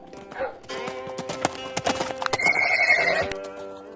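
Horses' hooves clip-clop in an uneven, close patter, and a horse gives a bright neigh near the end.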